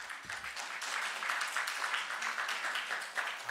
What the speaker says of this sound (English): One more round of applause for Jean,